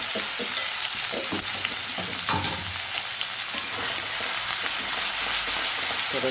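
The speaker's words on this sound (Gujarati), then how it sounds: "એમાં જરીક આપણે જીરું નાખીશું. જીરું થઈ જાય તો લીલી ડુંગળી અને ટામેટાં નાખીશું." Cumin, spring onion and tomatoes frying in oil in a home kitchen pan, giving a steady, loud broadband sizzle with occasional stirring scrapes, close up and with no one speaking.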